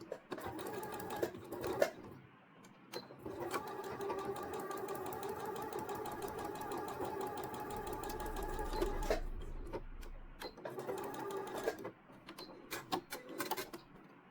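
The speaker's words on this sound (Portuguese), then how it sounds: "Então, aqui eu vou iniciar a costura." A sewing machine stitching a shawl-collar robe runs in steady mechanical bursts, a fast rhythmic whirring hum that starts, stops and resumes, close by with faint handling clicks between runs.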